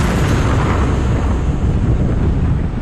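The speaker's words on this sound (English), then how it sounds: "the rig is rocked by an explosion" A massive explosion on the Deepwater Horizon offshore oil rig in the Gulf of Mexico, a loud sustained roaring rumble that fills the whole clip without pause.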